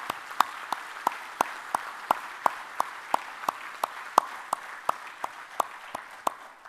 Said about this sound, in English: Please join me in applauding His Excellency President Macky Sall for his outstanding leadership for Africa.